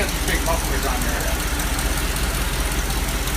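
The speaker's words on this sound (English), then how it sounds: "this is our engine. Running great." A 1937 Cord 812 supercharged engine idles through big mufflers, a loud, steady, low rumble holding constant throughout, with faint voices briefly over it early on.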